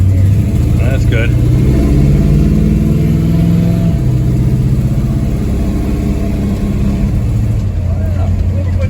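A big-block 440 V8 in a 1970 Plymouth Fury III, running rough and loud up close, with a steady low rumble and a few small rises in revs.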